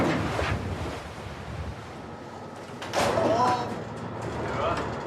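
Huge storm waves, up to twelve metres high, roll through the Bass Strait, giving loud rushing surges of surf and wind in two swelling bursts over a constant roar.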